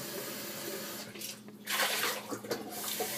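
Water pouring into a high-powered blender jar for a green shake, a quiet splash that swells into a steady louder gush near the end.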